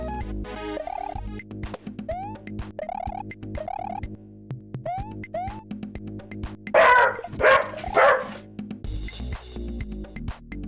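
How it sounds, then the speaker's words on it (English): Dog barking at a FedEx truck, a run of sharp yelping barks and whines in quick bursts followed by heavier, louder barks close by, then a faint hiss. "Spike can't resist a good bark at a FedEx truck"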